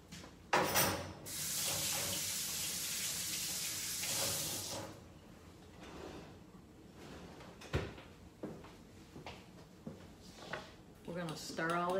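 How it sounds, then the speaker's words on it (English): A kitchen tap runs loudly for several seconds while hands are washed, then shuts off, followed by light clatter, knocks and a few spoken words. "Let me go wash my hands."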